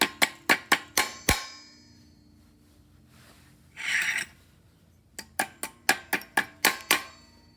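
The back of channel-lock pliers taps parts into place while a clutch kit goes into a RZR 170 belt housing, two quick runs of sharp metallic clinks, close and loud, split by a brief scraping rustle.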